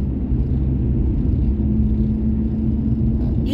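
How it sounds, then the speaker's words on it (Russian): A heavy goods truck passes very close by on a road, a loud continuous low engine rumble with a steady drone holding throughout, no voices. "как близко едет вот эта грузовая."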